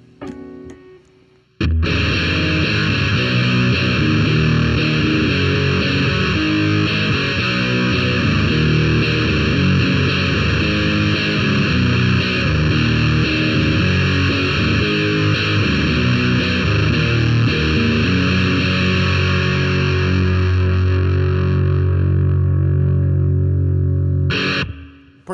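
A loud distorted electric guitar plays power chords. The sustained, heavily overdriven chords ring continuously at a steady level for about twenty-three seconds, then cut off abruptly.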